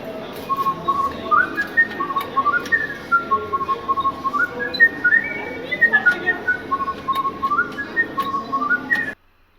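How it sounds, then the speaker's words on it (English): A cartoon oyster's clear, melodic whistle runs through a bouncy tune, rising and falling in quick notes for about nine seconds before stopping abruptly. "Here's one of an oyster whistling."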